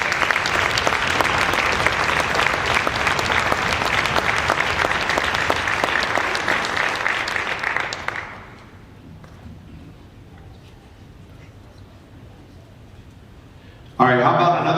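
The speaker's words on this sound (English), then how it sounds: "how about another big round of applause for the middle school honor band?" Loud, dense applause from a large audience at a high school honor band concert, sustained for about eight seconds before dropping to quiet room tone, then a fresh burst of clapping at the end.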